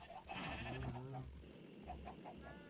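A sheep in the Minecraft modpack Tekkit Lite bleats a couple of times, short wavering cries up close over quiet game ambience.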